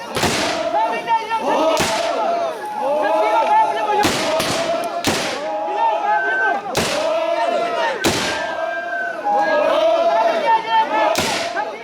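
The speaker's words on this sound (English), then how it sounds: "in keeping with tradition, the log drum is shot awake" Muzzle-loading guns fired in turn to ceremonially awaken a new log drum in the hills, a series of sharp loud blasts about every two seconds with echoing tails and a crowd shouting in between.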